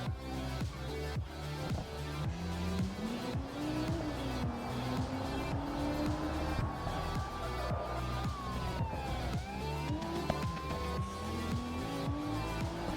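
A video game car, a RLS career build, drives continuously with a loud engine note rising and falling through gear changes, plus tire squeal and a constant rushing tone throughout.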